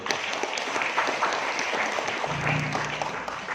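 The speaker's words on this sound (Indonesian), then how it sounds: "Tepuk tangan untuk mereka." An audience at an Islamic boarding school's Quran celebration claps steadily throughout, a dense, even wash of applause that holds at moderate loudness with a faint low murmur beneath.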